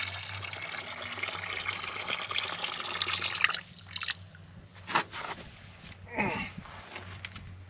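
Water sloshed from a washing-up bucket onto a campfire, a steady broadband pour and hiss for several seconds followed by a few short splashes and dribbles.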